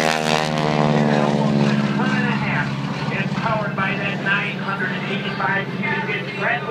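Super Sherman aerobatic biplane rolling down an air show line, its engine and propeller giving a loud, steady droning buzz that shifts pitch as it passes, with an announcer talking over it.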